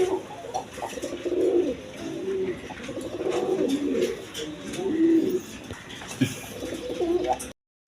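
Pigeons, including Kaldom pigeons, coo steadily in low, throaty phrases at a breeding farm, close by and fairly loud, with a few faint chirps and rustles in between.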